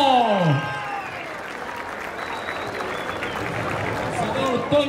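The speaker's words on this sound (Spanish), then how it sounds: "Venga el aplauso bonito" A crowd at a rodeo-style jaripeo in San Mateo Xalpa breaks into sustained applause and cheering, a dense, loud wash of clapping that runs throughout while an announcer's voice booms over a PA at the start.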